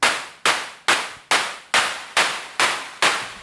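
Eight synthesized white-noise claps made with Bitwig's built-in instruments at an even tempo, each with a sharp attack and short decay, dry, without slapback or echo.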